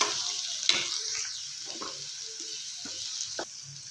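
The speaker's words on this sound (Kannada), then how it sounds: "ಈಗ ಟೊಮ್ಯಾಟೊ ಹಾಕೊಳ್ಳೋಣ ಚೆನ್ನಾಗಿ ಮಿಕ್ಸ್ ಮಾಡ್ಕೊಳ್ಳಿ" Tomatoes sizzle and fry in a pan while being stirred for a cashew masala curry, a steady close hiss with occasional scraping knocks of the spoon.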